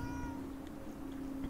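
A cat meows in the video game Throne and Liberty, a steady tonal cry over a constant low hum and game ambience, fairly quiet and with no talking.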